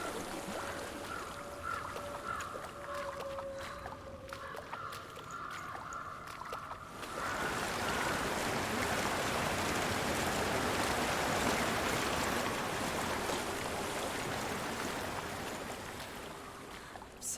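Flowing stream water in Hellblade: Senua's Sacrifice, at first a softer trickle under faint tonal ambience, then a loud, steady rushing torrent filling the scene for the remaining seconds, with no speech.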